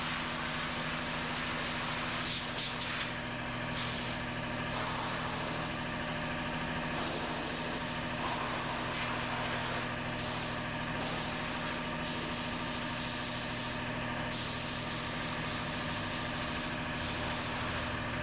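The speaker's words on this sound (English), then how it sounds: "standing there making all that noise with the, with the air compressor" A loud, continuous blast of compressed air hisses close by, blowing water off a washed Honda CRF300L motorbike, with a droning motor underneath, cutting in and out in short pauses as it sprays.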